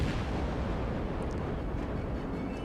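Warship guns firing in the video game World of Warships, a dense, loud, booming roar of gunfire and blasts that continues without pause.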